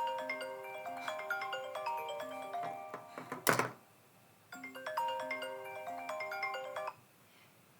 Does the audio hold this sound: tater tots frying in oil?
no